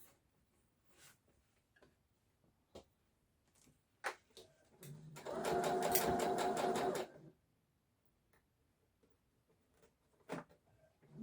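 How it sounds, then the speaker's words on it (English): Sewing machine stitching gathers on a skirt, a single steady burst of rapid mechanical stitching lasting about two seconds, close and fairly loud, framed by quiet handling clicks and fabric rustles before and after. "I'm sewing from the side that I can see the gathers"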